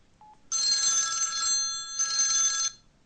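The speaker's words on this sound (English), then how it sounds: "This is the sound of a ring." A telephone rings electronically in two loud, clear bursts of trilling tone, the second following after a very brief pause, with no voices over it.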